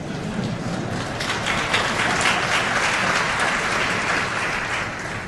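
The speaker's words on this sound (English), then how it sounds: "You can applaud if you want to, you don't have to" A crowd at a big data technology demo bursts into steady applause, a loud, dense clatter of many hands that swells a little midway and holds throughout.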